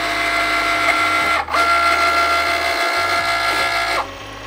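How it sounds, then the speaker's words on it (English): A Cricut cutting machine cuts a piece of vinyl for a bandana, a steady close mechanical whir and buzz with two brief pauses as the blade carriage shifts. "After the Cricut has cut the piece of vinyl to stick ready onto the bandana"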